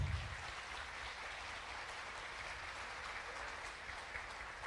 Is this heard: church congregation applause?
yes